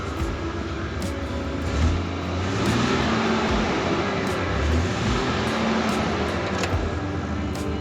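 Ford Bronco engine running in a steady, dense rumble that holds a constant level throughout, close and fairly loud, with no pauses.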